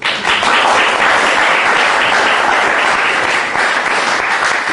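An audience in a room at a group announcement meeting claps in a loud, dense, sustained round of applause, with no voices over it.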